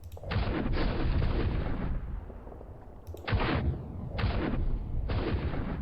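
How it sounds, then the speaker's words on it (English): Rocket artillery fires in the Panzer Campaigns Donbas 43 wargame: a series of loud, booming launch blasts in separate bursts, each ringing out briefly before the next, with short lulls between them. "Okay, let's see what kind of artillery we can use. Rockets."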